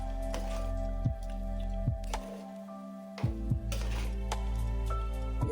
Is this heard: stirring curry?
yes